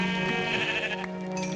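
Sheep bleating in the Minecraft video game, a steady harmonic bleat that carries through the whole short stretch at moderate loudness, with no talking over it.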